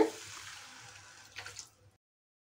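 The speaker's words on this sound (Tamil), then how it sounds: "இப்போ இதில் ஒரு டம்ளர் தண்ணி சேர்த்துக்கலாம் சின்ன டம்ளரால் சேர்த்துக்கோங்க" A soft, steady stream of water from a small tumbler poured into a pan of carrot halwa, trickling for a couple of seconds before tapering off and falling silent.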